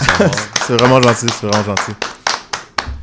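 A few scattered hand claps land between and beneath a person speaking French, each one sharp and isolated rather than forming sustained applause.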